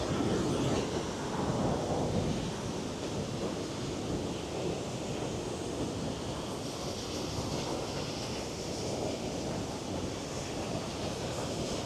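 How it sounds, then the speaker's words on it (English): A waterfall near an old village mill in the Jæren landscape of Norway gives a steady, broadband rushing roar that holds constant throughout, close and continuous, with no voices. "I discovered this waterfall."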